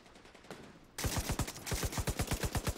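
A steady stream of rapid automatic rifle fire in the shooter game The Division, evenly spaced sharp shots after a quieter opening with a single earlier report, loud and close.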